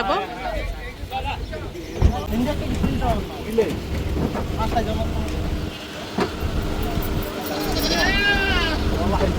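A few wavering goat bleats rise near the end at a Qurbani livestock market, over crowd chatter and passing traffic noise.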